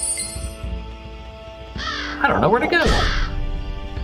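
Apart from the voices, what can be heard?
crow cawing in the video game The Vagrant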